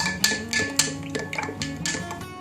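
A spoon clinks against a glass while stirring masala soda with sugar syrup and lemon juice, a few bright metallic taps and scraping swirls close by, fairly quiet, no talking.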